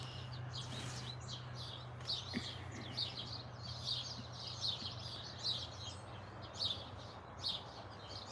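Pet birds chirp and sing indoors in rapid, repeated high twittering phrases, faint and steady over a low background hum, with no talking.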